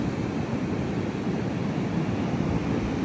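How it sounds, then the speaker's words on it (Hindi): Continuous low roar of sea waves washing on Sapat Beach near Buji Koh at dawn, steady and full, mixed with some wind rumble and no voices. "और ये पानी का शोर।"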